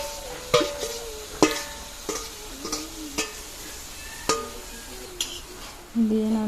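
Potatoes and cabbage being stirred and fried with spices in a pan, a low sizzle running throughout with several sharp scraping clacks of the spoon against the pan, spaced irregularly.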